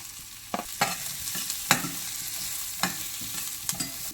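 Ginger and carrot pieces stir-frying in a pan for a vegetable soup, an even hiss of frying under several sharp spatula scrapes and knocks at irregular intervals, with no talking.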